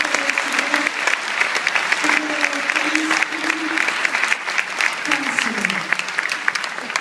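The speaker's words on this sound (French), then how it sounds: "je vous propose d'applaudir une fois encore" An award ceremony audience at a regional small-business culture prize gives sustained, dense applause for several seconds, with some voices rising through the clapping.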